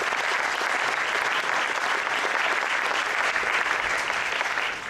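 Sustained, dense applause from a keynote audience at IFA 2015, loud and even for the full length with no speech over it.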